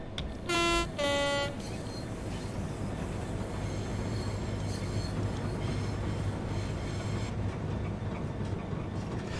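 A rail head treatment train in Train Sim World 3 sounds two short horn blasts, then rolls past the yard with a steady, loud rumble and droning hum.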